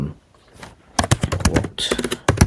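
Computer keyboard typing in a quiet indoor setting, starting after a second of near silence and then running as a quick, uneven burst of close, crisp keystrokes with short pauses.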